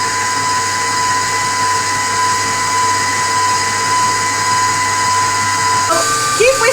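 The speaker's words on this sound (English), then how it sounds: "Keep whisking it" An electric mixer whisks cubes of unsalted butter into meringue for coffee buttercream, a steady high motor whine that runs continuously, with a brief clatter near the end.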